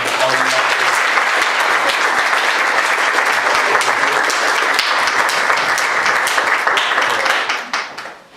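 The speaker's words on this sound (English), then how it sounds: "So you can give them all a round of applause." Induction ceremony audience for an honor society gives inductees a round of applause, loud continuous clapping with sharp individual claps, dying away quickly in the last second.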